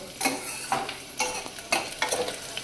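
Onion browning in a pan for a spicy dal, stirred with a spoon in a series of scraping, clinking strokes over a steady close sizzle.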